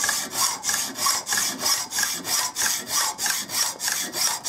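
A hand hacksaw cuts through a metal bolt in a garage with steady, even back-and-forth strokes, about two per second, a rasping close sound with no talking.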